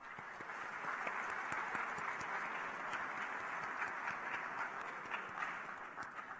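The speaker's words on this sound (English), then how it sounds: "Please give them a round of applause." A crowd at a SkillsUSA Texas opening ceremony claps for the organization's advisory committee, a fairly distant, even wash of applause with some sharper individual claps standing out.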